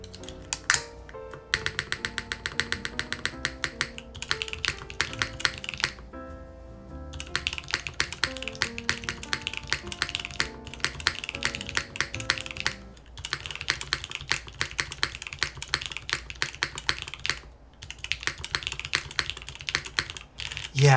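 Rapid clattering keystrokes on a 60% mechanical keyboard with a numpad, fitted with an HMX switch, typed in dense bursts with brief pauses, close and crisp with no talking.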